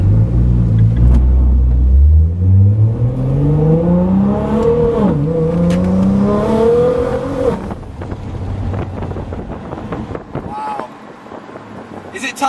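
A 900 bhp Nissan GTR engine revs hard while driving, its deep tone climbing steadily through the gears with a brief dip on a shift, loud and close over wind rumble, then dropping to a lower cruising drone.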